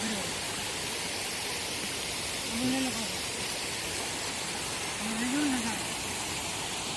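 Water rushes steadily from an overflowing lake during rain, a continuous broad roar that fills the whole clip, with a faint voice surfacing briefly twice.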